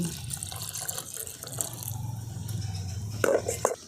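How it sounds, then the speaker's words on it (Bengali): Water being poured in a generous amount into churned milk cream in a rustic home kitchen while making ghee, a steady low splashing pour running throughout with a brief brighter splash near the end. "অনেকটা পরিমাণে আমি জল দিয়ে দিচ্ছি"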